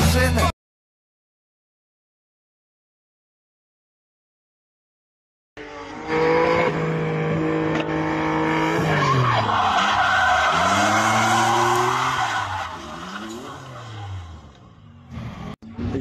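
A car drifts with loud, sustained tire squeal and skidding alongside engine noise for about ten seconds, fading near the end, after a long stretch of silence.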